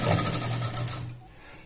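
A sewing machine stitching a dress made from a saree, with a brief, close hum of the motor running and then winding down within about a second, no voices.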